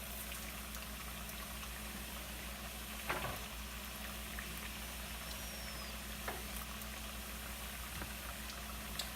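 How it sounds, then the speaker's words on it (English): Plantains sizzle and crackle steadily in hot oil in a frying pan, a constant close frying hiss with a few small pops and a soft knock. "So these have to go back into the frying pan so the insides can cook"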